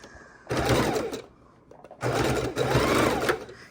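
A sewing machine stitching the side seam of a fabric Christmas mitten with lace trim: two loud, close bursts of rapid whirring stitching separated by a brief pause, with no speech.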